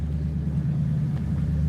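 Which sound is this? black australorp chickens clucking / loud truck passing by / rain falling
loud truck passing by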